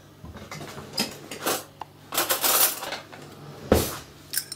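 A fresh metal spoon clinks and rattles against a pot of Königsberger Klopse in caper sauce, a string of irregular close clatters and taps with no talking.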